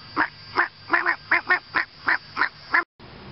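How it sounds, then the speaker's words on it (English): Ducks give a rapid run of about ten nasal quacks and honks in a steady rhythm, close and clear, before stopping abruptly. "Now the fucking ducks are starting."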